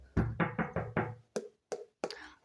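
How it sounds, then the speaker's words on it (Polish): Knocking on a door in a Toca Boca game, a quick series of five knuckle raps followed by a few separate sharper taps, close and distinct with silence between. "Puk, puk."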